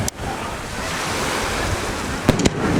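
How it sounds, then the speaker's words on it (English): Strong wind blows at night beside the water in Cape Charles during July 4 fireworks, a loud, constant roar of gusts buffeting the microphone, with a couple of brief knocks near the end. "So windy."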